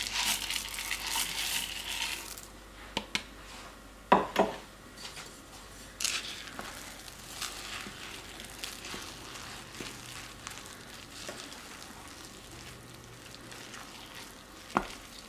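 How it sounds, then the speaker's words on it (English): A spoon stirs peanut butter chips into thick muffin batter in a home kitchen, a soft scraping and squelching with sporadic clicks and knocks against the bowl, close and fairly quiet. "Now it's time to stir in the either peanut butter chips or the chocolate chips."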